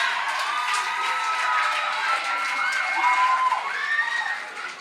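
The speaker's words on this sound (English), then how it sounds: "Even dependent women are clapping." A live audience at a talk show cheers and shouts, with crowd voices and rising whoops over a lighter patter of clapping that swells toward the end before easing off.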